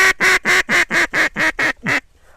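A duck quacks nine times in a quick, even series during a simulated duck hunt, each call loud and close, ending in silence.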